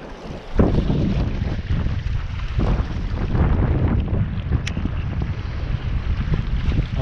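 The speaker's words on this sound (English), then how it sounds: "I just saw the fire rescue boat go by." Steady fire rescue boat engine rumble on open water, mixed with gusty wind buffeting the microphone, passing at moderate distance with no voices.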